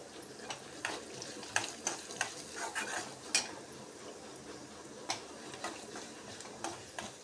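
Mustard seeds and asafoetida sizzle in hot oil in a pan, with scattered crackling pops and ticks over a faint steady hiss, fairly quiet and with no voices.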